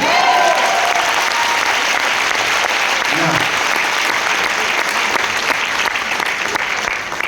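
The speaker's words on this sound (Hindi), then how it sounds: "तो तालियां बजा सकते हैं अपने लिए।" Audience applause at a company speech event in Faridabad, a dense, steady clapping that fills the hall throughout, loud and close, with a brief voice rising faintly beneath it.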